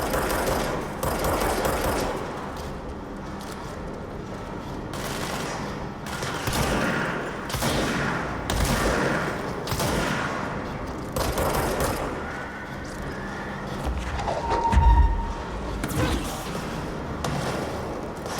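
Enemies fire guns in the video game Control in a run of loud, close, rapid bursts and single shots, with thuds and impacts in between.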